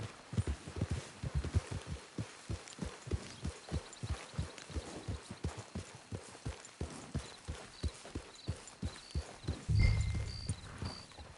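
Horse hooves clip-clop at a steady walking rhythm in the video game Red Dead Redemption 2, a clear, regular series of soft thuds close by, with a brief snort near the end.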